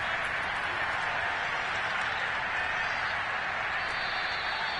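A large stadium crowd at an NFL playoff game roars steadily in a dense, far-off wash of cheering that holds constant without pause.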